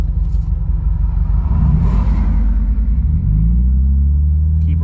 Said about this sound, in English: Keep revving in, let the clutch out.